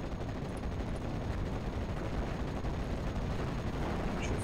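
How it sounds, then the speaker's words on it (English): In Steel Division: Normandy 1944, artillery and gunfire combine into a constant, faint, distant rumble of overlapping shots and blasts that runs for a few seconds without talk. "My artillery's still coming in. Ready to pound them, sir."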